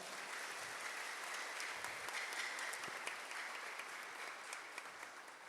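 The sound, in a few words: audience applause praising God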